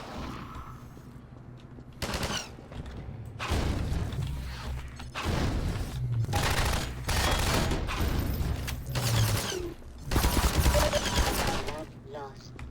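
Gunfire in the video game Half-Life 2 Episode 1: loud bursts of rapid shots in several separate volleys with short pauses between them, mixed with booms and mechanical clatter, while a voice talks over parts of it.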